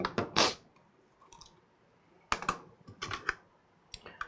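A computer keyboard being handled while a mini PC is set up, giving close, irregular clusters of clacks and clicks separated by brief quiet gaps.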